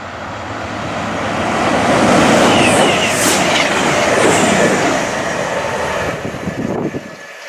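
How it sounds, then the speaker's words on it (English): An express passenger train races through Duffield station, its rumble and clattering wheels swelling to a loud peak as it passes close by, with a high rail hiss and squeal, then fading away. "anything that comes through now is fast services, express services from London St Pancras to Sheffield"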